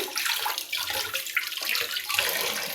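Water splashes and runs as papad is soaked for a katla fish omelette, a steady close trickle and slosh like a filling sink with small bursts of movement.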